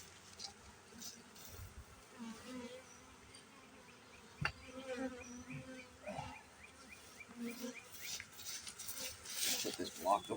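A small honeybee swarm buzzes around a beehive at close range, a steady insect drone with individual bees whining past, while a person speaks and handles hive equipment with occasional knocks.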